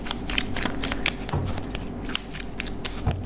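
A deck of tarot cards is shuffled by hand close up, with a quick run of riffling, fluttering card snaps and a few soft taps, and no talk.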